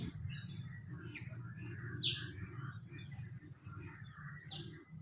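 Pet birds in cages on a home garden terrace: short, repeated chirps and tweets at moderate distance, scattered over a low, steady background hum, with no voices.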